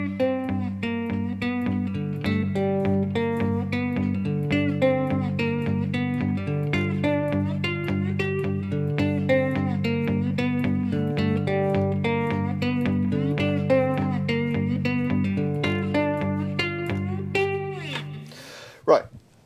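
A plucked, twangy cigar box guitar plays a steady repeating blues riff, bright and close, fading out with a final strum near the end.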